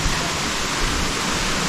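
Steady, full roar of a waterfall in a forest pool, a constant broadband rush of falling water close by with no voices.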